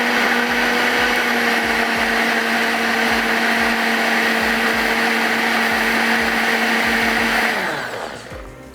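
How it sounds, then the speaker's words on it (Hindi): A blender whirs loudly and steadily, pureeing cooked black-eyed peas (lobia) for a white chicken chili, running continuously for several seconds before the motor winds down and stops near the end. "तो यहाँ पे जो लोबिया है इसको मैं कर लेती हूँ ब्लेंड।"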